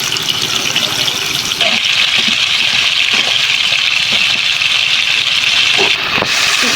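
Two tilapia fish frying in hot oil in a pan, a steady loud hissing sizzle that fills the whole stretch with a few small pops and crackles.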